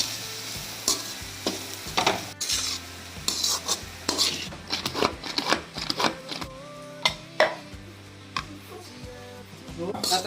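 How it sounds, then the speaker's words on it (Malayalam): Chilli powder, garam masala and pepper powder being stirred in a pan for chicken thoran: repeated metallic scrapes and clinks of a spoon against the pan over a light sizzle, with a voice faintly in the background. "മണം മാറുന്നവരെ നമുക്ക് ഇളക്കി കൊടുക്കാം"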